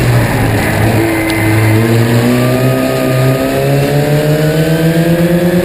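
Historic Formula Ford race cars race closely, their engines revving loudly and rising in pitch as they accelerate, a continuous close-up mechanical scream with layered engine tones.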